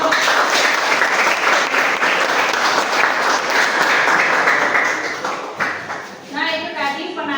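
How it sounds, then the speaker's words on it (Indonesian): Classroom applause breaks out after a student group's presentation on the Majapahit kingdom: dense, steady clapping from many hands for about five seconds, then thinning as brief musical tones come in. "Beri tepuk tangan, Bu."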